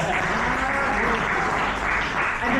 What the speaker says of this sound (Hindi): ताली देंगे।